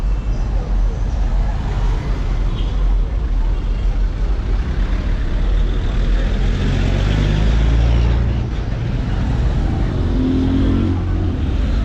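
Dense, steady roar of matatu minibuses and other vehicles on an evening Nairobi street, loud and continuous with engines rumbling and revving close by, no clear talk over it.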